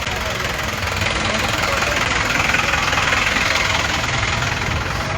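A tractor engine idles at a Republic Day tractor rally at night, a steady, loud, continuous rumble with broadband hiss filling the whole stretch and no pauses.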